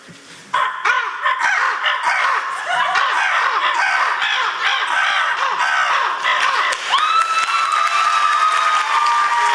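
A contestant at a bird calling contest imitates an American crow, with repeated harsh caws over steady loud applause and cheering from the crowd, the clapping swelling near the end.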